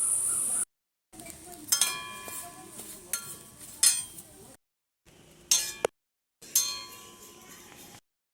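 Leaves fry in an iron wok while a utensil scrapes and clinks against the metal in short bursts, with brief silent gaps between the stirring sounds.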